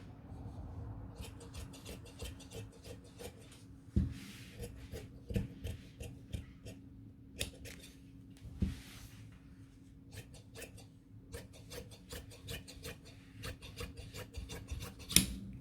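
Shears cutting the front lining fabric of a bespoke tailored jacket, a series of soft close snips and scraping rubs, with occasional louder clacks of the blades and fabric shifting, no talking.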